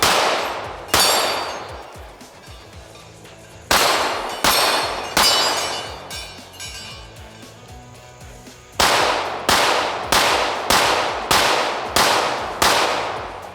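A CR920XP pistol fires 124 grain competition ammunition, sharp loud cracks at first spaced a few seconds apart, then a quick run of six evenly paced shots, each ringing briefly.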